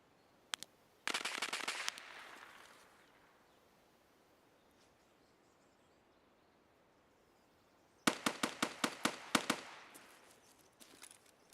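Gunfire in Escape From Tarkov comes in two bursts of rapid shots, one short volley early and then a longer string of sharp cracks, each fading into quiet, faint and distant.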